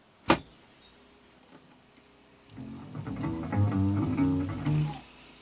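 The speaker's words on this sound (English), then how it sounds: "It was just starting to work and the cartridge has apparently jammed." A quadraphonic 8-track cartridge player starts with a sharp click, whirs faintly, then breaks into a loud mechanical grinding drone with wavering tones as the cartridge jams, before cutting back down.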